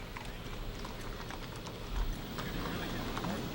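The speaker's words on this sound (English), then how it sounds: "Those horses. Everyone loves those horses." Horses clip-clop along a street in the Garden Grove Strawberry Festival Parade, a steady patter of hoofbeats under a busy crowd murmur, moderately distant.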